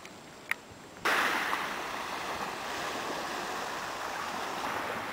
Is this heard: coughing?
no